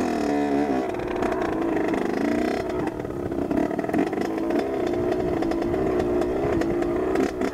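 Motorcycle engine running just after starting, a loud close buzzing drone with uneven throttle blips and rising revs, with no talk.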